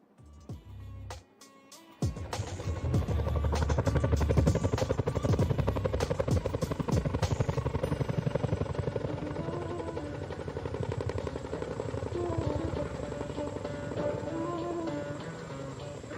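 A heavy military transport helicopter flies at an air force display in Chandigarh. Its rotor gives a loud, fast, continuous thudding that starts abruptly after a brief lull and holds steady for most of the time.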